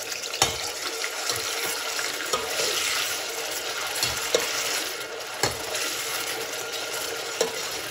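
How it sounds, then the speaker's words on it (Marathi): Tomato paste sizzles as it is sautéed in oil in a pot for pav bhaji, a steady frying hiss close up, punctuated by periodic scraping knocks of a stirring spoon against the pot. "जे वाटण आपण टोमॅटोचं वाटण करून घेतलं होतं ते मी यामध्ये छान तेल सुटेपर्यंत परतून घेणार आहे"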